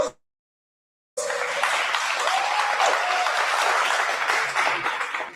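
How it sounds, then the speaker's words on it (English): Workshop attendees break into a round of applause for business pitch contestants; after a moment of silence, loud, sustained clapping from a roomful of people starts abruptly and continues steadily. "Give them a round of applause."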